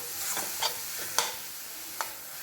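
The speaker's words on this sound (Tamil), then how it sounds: "நல்லா சுருளில் வதக்கிடணும்" Lentil filling for paruppu poli is stirred and sautéed in a pan, with a quiet continuous sizzle and four or five sharp scraping strokes of a spoon against the pan, and no talking.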